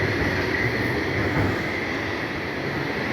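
Loud continuous rumble and roar of a metro train arriving at a station close by, a steady mechanical drone with a faint high whine.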